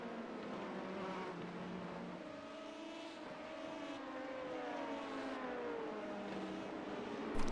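LMP2 prototype race cars roar along a circuit in a racing video game, their engines whining through rising and falling gear changes, steady and fairly close, with no talk.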